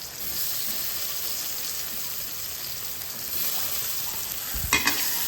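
Tofu fries in a little oil in a pan, a soft steady sizzle with a brief stirring clatter near the end, fairly quiet and with no talking.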